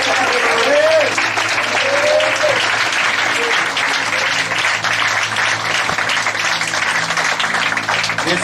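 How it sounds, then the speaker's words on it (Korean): A church congregation claps in loud, dense, continuous applause throughout, with a voice speaking over it near the start. "이 시간 주님께 박수로 영광을 올려드립니다."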